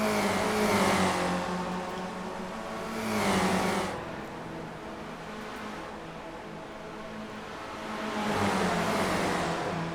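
Spec Racer Ford race cars at Watkins Glen roar past at full throttle, with engine notes rising and falling as several cars pass close by in waves, pitch sweeping as each goes through.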